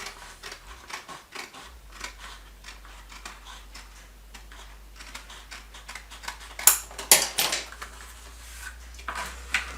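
Scissors snip repeatedly up close, a rapid series of crisp clicks and cuts in uneven bursts over a low steady hum.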